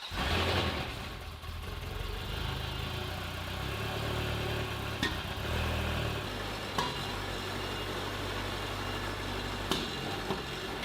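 A Ferrari 360 Spider's engine, rebuilt after being abandoned and barely responding to the throttle, runs as a low, fairly quiet steady drone with little rise in pitch and a few faint clicks.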